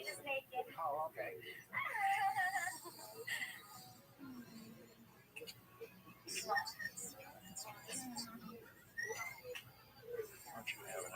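A puppy whimpers and yips in thin, high bursts scattered through the scene, mixed with people talking nearby and a cat in the same room.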